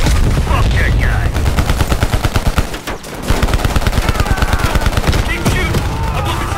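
Loud, rapid automatic machine gun fire in the Call of Duty Cold War video game, sustained bursts with a brief pause midway, in a chaotic urban combat scene.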